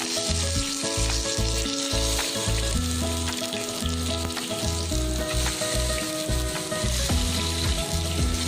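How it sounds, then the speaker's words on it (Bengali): Cumin and ginger paste with bay leaf sizzles steadily in hot mustard oil for a Bengali banana-flower dumpling dish, a continuous hissing fry under prominent background music. "এবার মশলাটা ভালো করে আমি কষিয়ে নিই"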